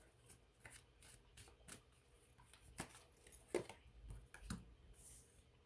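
Tarot cards shuffled by hand in a run of soft, papery riffles and slaps that come in irregular bursts close by, with no one talking.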